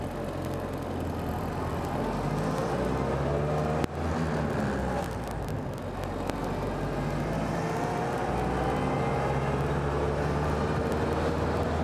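A 1930 Ford Model A Roadster Pickup drives at a steady low speed, giving a continuous close engine drone and road rumble with a brief knock partway through and no talk over it.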